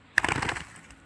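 A short bird call, slightly harsh and tinny as if played through a loudspeaker, heard once at close range.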